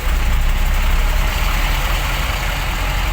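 Vehicle engines on a busy road near Kasimedu beach in Chennai, with a loud, steady rumble of idling and passing motors and no pause or speech over it.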